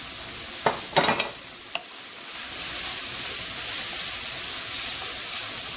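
A stuffed hamburger patty frying in oil in a pan, steady loud sizzling close by, with a few sharp utensil knocks and scrapes near the start before the hiss settles in.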